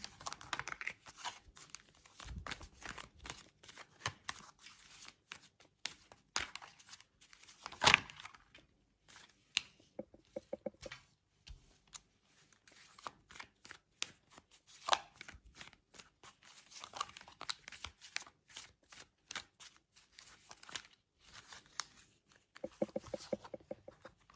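Tarot cards handled close by at low level: quick riffles, flicks and soft crinkling slides come in scattered bursts with short pauses between them, and nobody speaks.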